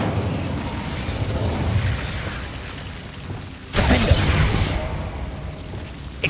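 An Incendio fire spell cast in Hogwarts Legacy, a sudden loud whooshing burst of flame erupting over the game's background ambience partway through, then roaring on.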